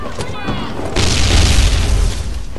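Bomb explosion in Mercenary Online 2 gameplay, a heavy sustained boom with deep rumble roaring for over a second, loud and close, with a voice talking over the start.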